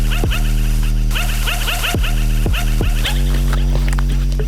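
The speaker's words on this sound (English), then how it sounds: "Is that a dog?" A dog barks repeatedly in short, sharp yelps at an irregular pace over a loud steady low hum, close and prominent.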